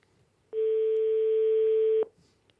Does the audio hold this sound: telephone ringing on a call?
yes